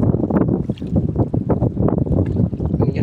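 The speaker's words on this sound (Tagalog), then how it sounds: "Lakas ng alon sa hangin." Strong wind buffets the microphone in continuous loud rumbling gusts, with a fishing boat on rough open water and no voices.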